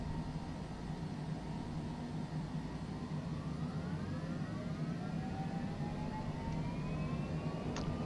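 Jet engines of a Cessna Citation Longitude spooling up on the takeoff roll in Microsoft Flight Simulator: a steady, moderate cockpit roar with rising whining tones that climb in pitch over several seconds.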